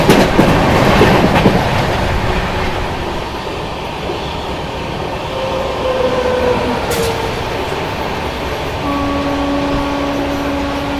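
The Sampark Kranti Express passenger train runs loud and close on rails, a steady roar of wheels and rushing air with clickety-clack and a brief squeal as the coaches pass.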